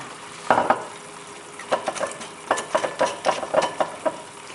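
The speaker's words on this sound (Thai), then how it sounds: "คนให้เข้ากันนะคะ" Chicken wings being stirred in a sauce with Chinese wine in a pan, a series of utensil scrapes and knocks against the pan over a soft sizzle, close and without talking.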